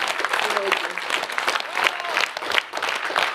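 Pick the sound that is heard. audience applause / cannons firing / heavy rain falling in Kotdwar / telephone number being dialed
audience applause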